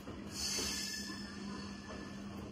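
A local train pulls out of Haridwar railway station, a soft, fairly distant rolling rumble with a brief hissing swell and faint wheel squeal.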